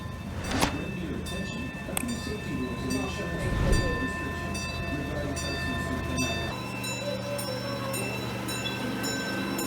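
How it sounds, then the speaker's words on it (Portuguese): A small park mini train in Tampa Bay rumbles along with a steady mechanical hum and tonal whine, some voices and a few clanks audible around it. "vamos passear no parque num mini trem"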